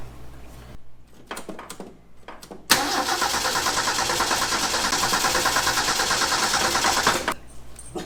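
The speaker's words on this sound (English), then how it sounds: "Really rev her up." A 1965 Ford F250 service truck, bought at a farm auction and parked for 17 years, cranks over in short bursts, then catches and revs hard for about four seconds before dropping off, loud and close.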